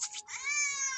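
A cat meows loudly and close up during a bath, one drawn-out, strongly harmonic cry following a shorter call at the start.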